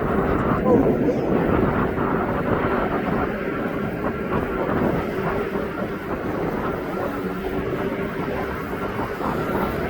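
A DHL cargo aircraft at East Midlands Airport gives a steady, distant rumbling roar that holds through the whole stretch, with people talking over it.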